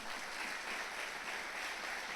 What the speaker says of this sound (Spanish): ¿Por qué no le damos un aplauso al Señor esta mañana?